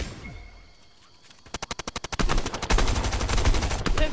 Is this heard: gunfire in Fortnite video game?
yes